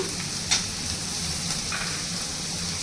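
Chopped tomatoes fry in a pan for drumstick curry, giving a steady close sizzle with a few brief clinks and stirring scrapes, no voices.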